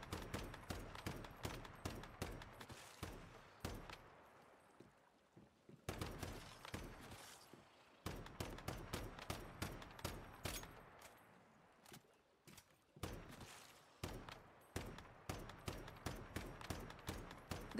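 Rapid bursts of new-weapon gunfire blast at monsters in the Once Human video game, loud volleys in rhythmic clusters broken by short pauses, with no talking.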